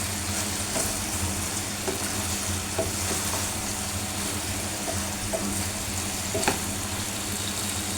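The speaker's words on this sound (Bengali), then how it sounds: "মাছ দিয়ে একটু নাড়াচাড়া করে ঝোল দিয়ে দেব।" Tengra fish is stirred into fried eggplant in a pan, giving a continuous sizzle close by, broken by a few soft scraping and clinking strokes of the spatula spaced a second or so apart.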